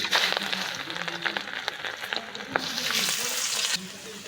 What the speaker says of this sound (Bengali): মাছ ভাজা তেলে পেঁয়াজ দিয়ে দিচ্ছি।